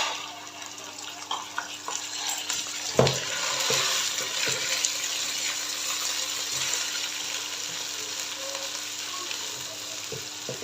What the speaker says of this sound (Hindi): थर्टी सेकेंड के लिए इसको फ्राई करेंगे